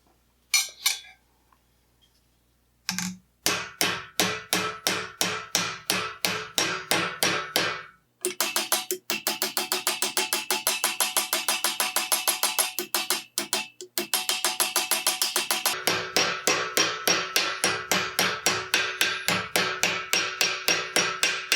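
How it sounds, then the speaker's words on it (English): A hammer strikes an armour plate to roll its edge. The blows come in quick rhythmic bursts with short pauses, close and sharp, ringing metallically, with no talking. "Now I'll go ahead and roll the bigger one."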